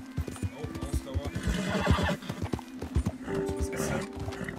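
A horse in Red Dead Redemption 2 neighs while hooves clip-clop in a quick uneven rhythm, with a player talking over the game sounds.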